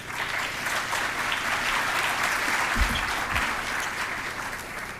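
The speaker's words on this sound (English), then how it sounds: "That applause didn't sound like you meant it." An audience applauds steadily to welcome a speaker to the podium at an excellence celebration, a dense even clapping that fills the whole stretch with a couple of low thumps midway.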